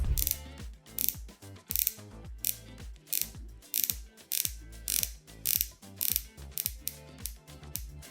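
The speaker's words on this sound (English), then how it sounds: "I will leave here the sound of the Pelagos bezel" Crisp mechanical ratchet clicks from a Tudor Pelagos watch's rotating bezel in rapid bursts, repeating in a steady rhythm of short turns, close and clear with no talking.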